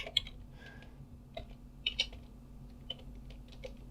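Sparse, light keystrokes on a computer keyboard while entering a Linux install command in Kali Linux, quiet scattered clicks with pauses and no voice.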